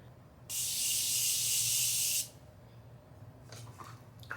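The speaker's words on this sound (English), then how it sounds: "when you spray your face, you want to get it like really wet" Setting spray mists onto a face in one continuous close, loud hiss lasting under two seconds, then stops, leaving quiet room noise with a faint rustle afterward.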